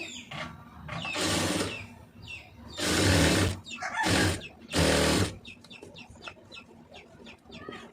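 A sewing machine runs stitching a folded blouse hem in three loud bursts of rapid whirring, separated by quieter pauses with small handling sounds and faint background noises.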